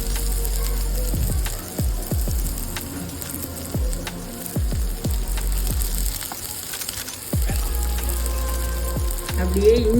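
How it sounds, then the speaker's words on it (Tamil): Onions frying until golden brown for a coconut onion chutney, a soft sizzle punctuated by repeated knocking thuds of a spoon against the pan, close and irregular, no talk. "நல்லா 5 நிமிஷம் கோல்டன் ப்ரௌனில் வரணும் வெங்காயம்."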